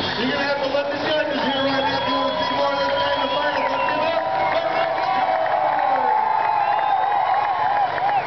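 A crowd at a county fair rodeo cheers and whoops continuously after a run, a dense roar of voices with an announcer talking over it.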